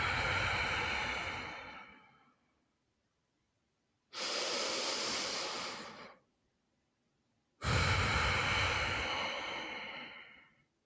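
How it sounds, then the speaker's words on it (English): Three slow, deep breaths drawn in and released during a guided relaxation, each a long airy rush lasting about two seconds and separated by short silences, close and clear with no talking. "So breathing in and out."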